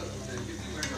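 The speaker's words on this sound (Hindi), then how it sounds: "इस तरह टमाटर पकने तक हम इसको पकाएंगे। तकरीबन 10 मिनट तक हम इसको फ्राई करेंगे।" Chicken jalfrezi fries with tomatoes in a pan, giving a brief, close, steady sizzle with a soft stirring scrape.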